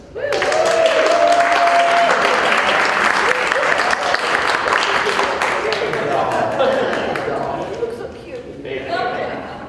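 Audience applause welcoming Shea Gordon to a community conversation event, a dense sustained clapping from a sizable crowd lasting nearly ten seconds, tapering slightly toward the end, with a brief tone and some murmuring mixed in.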